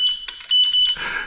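A few short, high electronic beeps from a small battery vehicle's electric horn sound in quick succession, thin and tinny, followed by a brief hiss.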